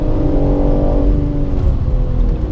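A car engine roars loudly and steadily at full power on the Circuit of the Americas track, a sustained revving drone close by.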